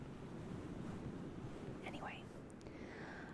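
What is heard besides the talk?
water sounds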